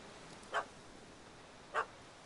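Two short, faint dog barks from a puppy in the Witcher 3 video game, spaced about a second apart over a low hiss of background ambience.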